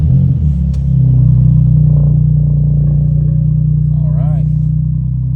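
A BMW M4 engine that had been misfiring cranks and catches within a second, then settles into a loud, steady low idle rumble up close, with a brief voice over it.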